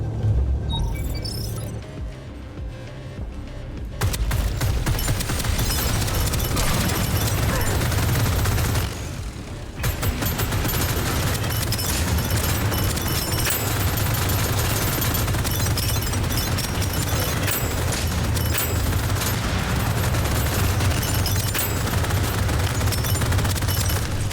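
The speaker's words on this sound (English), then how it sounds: "very P90 feeling SMG" Rapid automatic fire from a P90-style submachine gun in the shooter game Deadzone: Rogue, sustained loud bursts rattling almost continuously with a short gap near the middle, layered over dense in-game booms and rumble.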